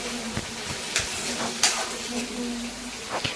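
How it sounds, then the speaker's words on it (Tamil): Cut eggplant and curry leaves sizzle in hot oil in a pan, with a soft continuous fry and several quick scraping stirs at an even pace, close and moderately quiet. "நம்ம கத்திரிக்காய் கட் பண்ணி சேர்த்துட்டு அதோட கொஞ்சம் கருவேப்பிலை வாசனை சேர்த்து ரெண்டு நிமிஷம் வதக்கி விட்டுக்கோங்க"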